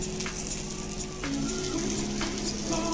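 Fried idli sizzles steadily in a pan over slow heat, with a couple of sharp clicks and scrapes as pieces are turned with a spoon; a continuous close hiss runs throughout without talk.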